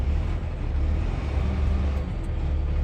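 A truck engine runs held at about 1,000 RPM, a loud, close, steady low rumble that stays even throughout with no talking.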